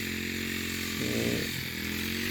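A motorized grass cutter trims grass along rice field dikes, cutting fodder for cows, with a close, steady buzzing engine drone that briefly changes pitch under load midway. No voices are clear.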